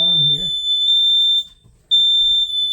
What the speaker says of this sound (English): We have both smoke alarms going off